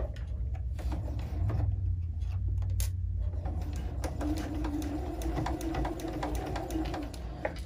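A sewing machine stitches slowly through a pleat of about six layers of fabric while sewing a reusable surgical-style face mask, a steady close mechanical whir with rapid ticking needle strokes and a few small clicks.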